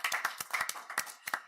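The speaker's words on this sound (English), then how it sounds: "Can we give her a round of applause?" Sparse, close handclaps from a small audience at a school board meeting, a few irregular claps spread over a short, quiet stretch.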